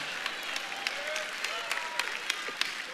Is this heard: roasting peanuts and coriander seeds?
no